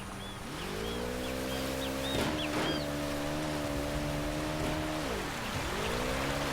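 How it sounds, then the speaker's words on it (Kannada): Motorboat engine in the video game Uncharted: Drake's Fortune, a steady droning hum that dips and rises with throttle changes, loud and continuous with water splashing and faint rain-like hiss around it. "ಈ ಬೋಟ್ನ ಕಂಟ್ರೋಲ್ ಮಾಡೋಕ್ಕೆ ಆಗ್ತಾನೆ ನನ್ನ ಕೈಲಿ"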